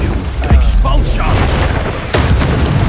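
A spell explosion blasts out in the Hogwarts Legacy video game, a sharp boom about half a second in and another burst near two seconds, over a busy, continuous layer of game effects and voices.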